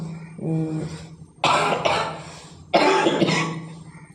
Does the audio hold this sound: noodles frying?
no